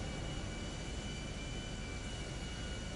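Airplane engine in GTA Online droning steadily and loudly as the aircraft flies low, a dense unbroken roar filling the whole stretch with no voices.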